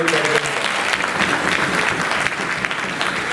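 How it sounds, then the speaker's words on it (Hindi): An audience at a public event honoring the national president of the Bharatiya Bauddh Sangh breaks into loud, sustained applause, dense clapping filling the whole stretch without pause. "इनका ताली बजा के स्वागत तो करें"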